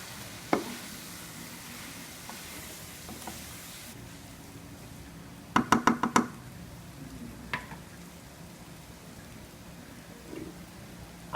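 Namkeen seviyan are stirred in a pan over a soft, continuous sizzle, with a quick cluster of sharp spoon clinks against the pan partway through.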